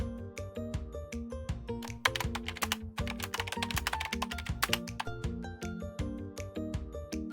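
Typing on a computer keyboard, a rapid run of crisp close key clicks in an uneven rhythm with short pauses, steady and moderately quiet.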